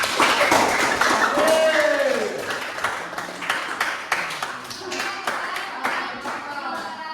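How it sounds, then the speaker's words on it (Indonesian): Classroom audience clapping for a student group in a teacher-training session: a few seconds of close, dense hand claps that thin into scattered individual claps, with voices talking and a brief whistle-like tone over them. "beri tepuk tangan untuk mereka"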